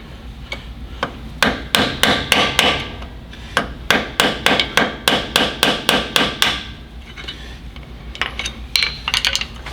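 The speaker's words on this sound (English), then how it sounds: "Then the other side, you bop it in with a hammer." A hammer taps in a rear wheel seal on a cabover Peterbilt truck in quick rhythmic bursts, several runs of sharp, ringing metal strikes close up, with short pauses between groups.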